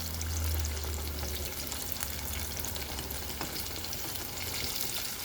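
Chicken fries in overheated oil in a pan, a steady, close, crackling sizzle that runs unbroken with fine popping throughout and no voices.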